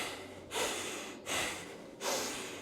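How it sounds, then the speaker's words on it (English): Someone squatting without weight breathes through the nose, three sharp close-up inhales or exhales about every three quarters of a second, each tapering off, quiet and alone. "I'm just breathing through it"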